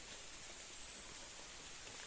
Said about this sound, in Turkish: Soğuk su şelalesi.